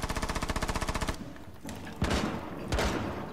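Gunfire in a shooting video game: a rapid automatic burst of evenly spaced shots, followed by two heavier single blasts, loud and close, with no talk.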